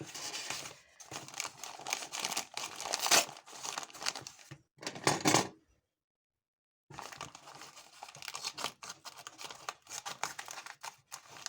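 Sturdy paper wrapping on a package, fastened with tape and staples, is torn and crumpled open in close, loud bursts of crinkling and ripping, with a brief silent pause midway.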